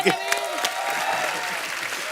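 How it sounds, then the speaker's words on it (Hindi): Studio audience applause on a TV comedy talk show, a dense steady clapping wash running throughout with a voice speaking over it. "जोरदार तालियां"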